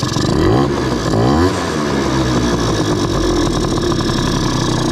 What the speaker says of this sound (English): I do think it's loading up a little bit at idle, but that's kind of common for a two-stroke.